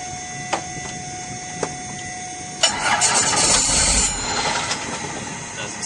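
Starter motor cranking a Robinson R44 helicopter engine: a few faint ticks and clicks, then a loud whirring, grinding crank with a steady high whine that fades slightly near the end, close up and without speech.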